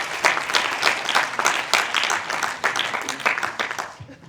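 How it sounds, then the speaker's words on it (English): Scattered applause from a modest audience at a film festival artist talk in Cologne, with uneven claps that build briefly and then trail off, and a few voices murmuring beneath. "Applaud if you want."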